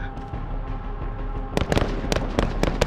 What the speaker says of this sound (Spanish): Están disparando a las luces.